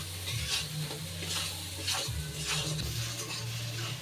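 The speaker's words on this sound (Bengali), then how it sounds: "এবার এই লবণ হলুদ দিয়ে চিংড়ি মাছটা একটু ভেজে নেব।" Prawns seasoned with salt and turmeric fry in a pan for lau chingri, producing a soft, continuous sizzle with a low hum underneath and occasional stirring, no talking.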